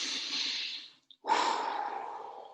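A slow, deep inhale during a guided group meditation, breathy and close, followed after a brief pause by a longer, steady airy breath, with no talking.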